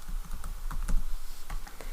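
Fingers type on a computer keyboard nearby, a quick irregular run of soft clicking keystrokes with small pauses, no voices.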